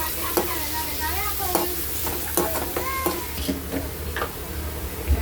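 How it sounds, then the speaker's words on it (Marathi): Chopped tomato is stirred into browned onions in a hot pan for paneer bhurji, giving a steady sizzle with repeated scraping and clicking spoon strokes, close and continuous. "तर आपण हा बारीक केलेला टॅमॅटो टाकूया. चांगला मिक्स करून घेऊया."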